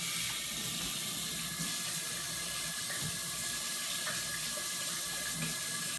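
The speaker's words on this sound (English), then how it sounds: "let's start out by washing our hands" Tap water runs steadily into a sink while hands are washed before baking homemade brownies, a constant close splashing hiss for the whole stretch, with no voices.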